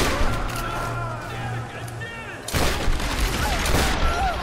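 Gunfire rattles in the video game Tomb Raider (2013), dense overlapping shots and bursts that grow louder and busier midway, with game sounds mixed in.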